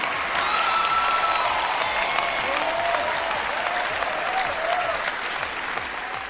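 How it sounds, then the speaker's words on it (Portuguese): A church congregation applauds steadily and loudly throughout, with a faint voice or two rising over the dense clapping. "Se você quer aplaudir o Senhor, não bata palminhas"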